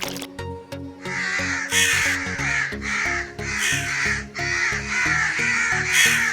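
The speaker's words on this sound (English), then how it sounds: "crow sound effect" Repeated loud, harsh crow caws come in rhythmic bursts close by, one after another with short gaps, over a low tonal hum in the background.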